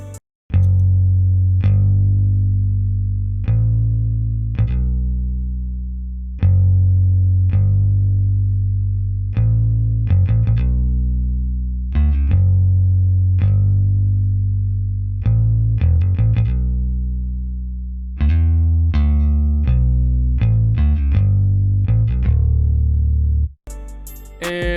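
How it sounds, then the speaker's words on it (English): Electric bass with a Rickenbacker bass preset and no effects plays a slow, plucked line of sustained notes, each attack ringing and decaying, repeating in a steady pattern with no other instruments. "right here, I have a bass line"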